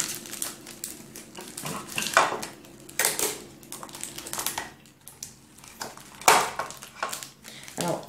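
Wrapping a homemade aloe vera soap makes crinkly, crunchy bursts of rustling packaging that come in irregular handfuls with short pauses between, close and fairly loud.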